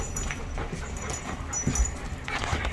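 A dog whimpers with soft whines and panting breaths, close and fairly loud, a continuous low fuss over a few seconds.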